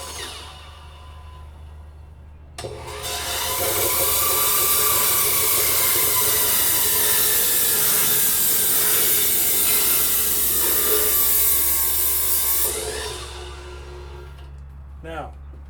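A cymbal being cut on a lathe spun slowly by a drill: a loud, sustained scraping hiss with ringing metallic overtones that starts abruptly, runs steadily for about ten seconds, then stops, with a low motor hum underneath throughout.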